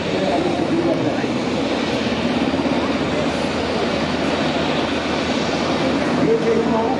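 An NH90 TTH military helicopter flying at an air show in Hyères, a steady broad rotor and turbine roar filling the whole stretch, with a commentator talking over it.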